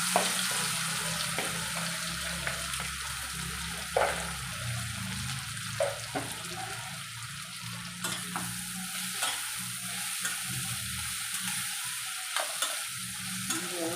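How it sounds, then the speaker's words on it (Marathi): Chopped bell pepper goes into hot oil already crackling with mustard seeds, cumin and asafoetida, giving a steady close sizzle with repeated spoon stirs and scrapes against the pan, no talking. "आता ही जी आपण भाजी घेतली मिक्स करून ठेवली होती ती आपण तेलावर घालूया"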